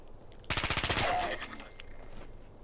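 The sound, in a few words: weapon gunfire in the video game Fallout 4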